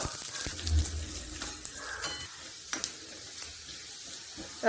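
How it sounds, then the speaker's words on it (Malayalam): Coconut pieces fry in ghee with a soft, steady sizzle, faint and close, with a few light stirring clicks and no one speaking. "ഇനി നെയ്യിൽ കുറച്ച് തേങ്ങാക്കൊത്ത് വറുത്തെടുക്കാം"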